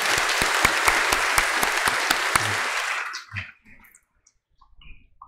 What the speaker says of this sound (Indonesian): Mari kita memberi mereka tepuk tangan yang meriah